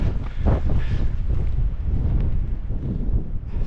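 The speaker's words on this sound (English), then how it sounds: "I'm walking into the wind" Strong wind buffeting the microphone on an exposed mountain path near Snowdon, a loud, continuous low roar with gusty surges and no talking.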